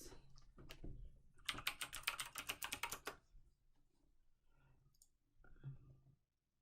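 Typing on a computer keyboard while entering an equation into the Desmos graphing calculator: a dense burst of quick clicking keystrokes for about a second and a half, then quieter scattered taps.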